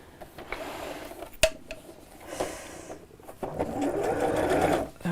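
A sewing machine stitches along a zip lining, close and moderately loud: short intermittent bursts of stitching with a sharp click, then a steadier run of stitching toward the end.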